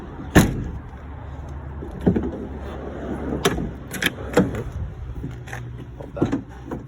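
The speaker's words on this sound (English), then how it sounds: "I'll just shut the back doors up." The back doors of a La Strada campervan are shut, giving several sharp thuds and latch clunks over a steady low outdoor rumble.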